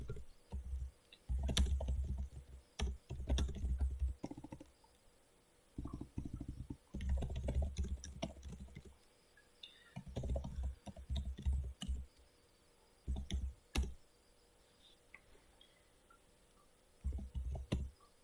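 Someone types on a computer keyboard while coding. Irregular runs of soft, close key clicks come in short bursts separated by brief pauses.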